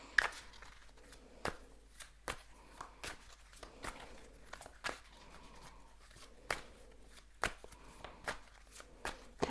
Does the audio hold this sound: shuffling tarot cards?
yes